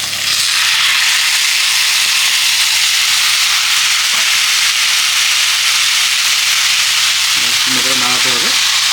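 A spice paste of onion, green chilli, ginger and tomato sizzles loudly in hot oil with a dense, steady hiss, and a voice briefly speaks over it near the end.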